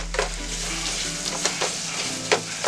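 Ground beef sizzles steadily in a hot pan, a constant crackling fry with a few sharper pops and scrapes of stirring, close up and alone.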